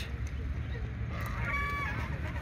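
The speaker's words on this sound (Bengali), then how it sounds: "গুঠিয়া মসজিদ প্রাঙ্গণে অনেক রাজহাঁস," A flock of domestic geese in the grounds of Guthia mosque, honking faintly over a low rumbling background, a few clearer calls near the end.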